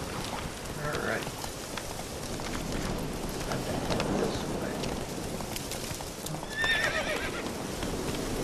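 Horse hooves clip-clop steadily through The Witcher 3 video game while a neigh or whinny breaks out near the start and again late, over a continuous rain-like game ambience with some talk.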